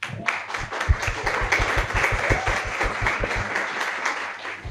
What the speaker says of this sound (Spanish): Aplausos, por fin.